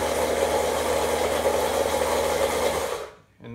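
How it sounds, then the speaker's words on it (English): A Vitamix Venturist 1200 blender runs at speed 5 without a lid, mixing potato. It gives a loud, steady motor whir with rattling that holds evenly for about three seconds, then cuts off abruptly. "we're just gonna mix it up this speed 5 on the Vitamix"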